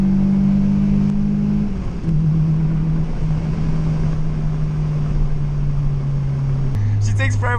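A 2002 Acura RSX drones steadily from inside the cabin as it accelerates on the road, the engine note holding loud and even before dropping as a gear changes, with a voice talking over it.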